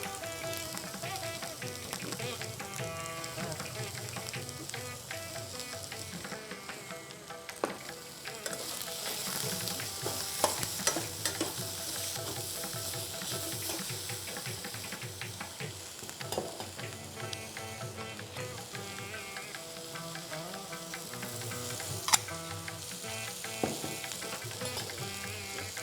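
Onion and capsicum sauté steadily in a pan for chilli idli, a continuous close sizzle and crackle with occasional stirring scrapes and clinks, no voices.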